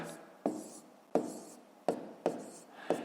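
Pen writing numbers on paper for long division, heard as five distinct close stroke-taps with scratchy tails, spaced about half a second apart, with a voice talking softly underneath.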